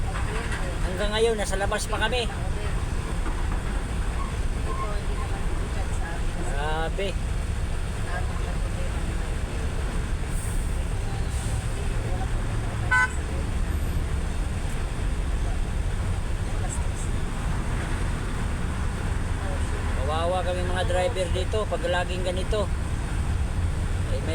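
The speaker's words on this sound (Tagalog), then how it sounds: "grabe ang traffic. Papasok ng pier." Heavy, congested traffic at the entrance to a port pier, with a constant dense roar of idling and crawling vehicles throughout and voices talking over the din.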